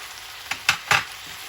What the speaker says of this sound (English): I'm going to add the tomato sauce as well to give it a special flavor.